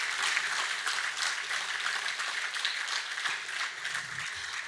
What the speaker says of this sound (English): fill the room with applause for them